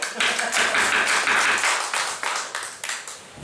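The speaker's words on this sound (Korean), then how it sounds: "여러분 박수." A church congregation clapping during a sermon, a lively burst of many hands that starts strong and then thins into scattered, fading claps.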